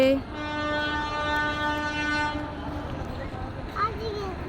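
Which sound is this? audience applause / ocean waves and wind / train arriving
train arriving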